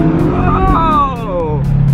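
Car accelerating hard close by, a loud engine note climbing in pitch over a couple of seconds with a rumbling low end, while people talk over it.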